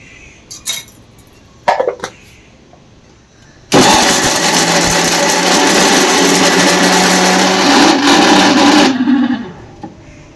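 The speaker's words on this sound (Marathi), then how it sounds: "आता आपण आलं, लसूण, खोबरं आणि कोथिंबीर पहिले वाटून घेऊ।" An electric mixer grinder grinds ginger, garlic, coconut and coriander with a loud, steady whirring roar for about five seconds, preceded by a few faint clicks and ending abruptly.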